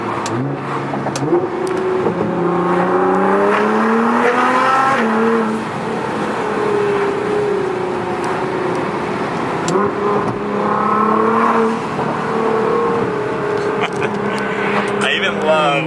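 A Nissan GT-R engine revs hard and climbs through several gears, each pull rising in pitch before dropping at the shift, loud and close throughout.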